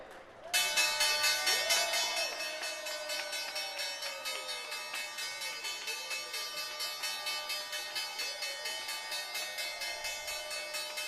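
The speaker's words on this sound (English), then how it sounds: "Time now for the bell here at the New York Stock Exchange." The New York Stock Exchange closing bell rings in a rapid, continuous metallic clang, loud and sustained for about ten seconds, with faint crowd noise beneath.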